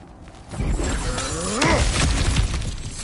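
Objects being smashed in the God of War Ragnarok video game: a loud crash and shatter of breaking debris, followed by scattered rattling fragments and clinks as pieces settle, heard alone.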